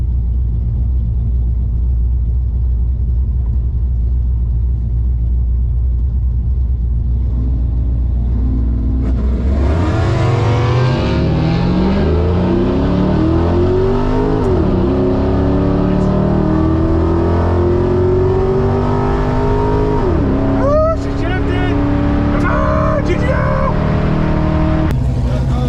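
A 500-horsepower Pontiac GTO starts with a deep, steady idle rumble, then revs hard and accelerates loudly through rising and falling gear pulls, close and powerful with a rough hiccup near the end.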